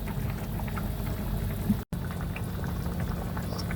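Spaghetti sauce simmers in a pot, a steady soft bubbling and popping that stays even throughout, with a brief dropout partway and no voices.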